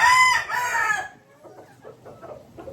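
A rooster lets out a loud, close cock-a-doodle-doo, then hens and pullets cluck softly and intermittently in the background.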